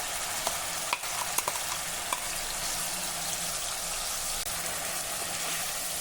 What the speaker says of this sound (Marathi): हे वाटण आता आपल्याला जरा परतून घ्यायचं आहे.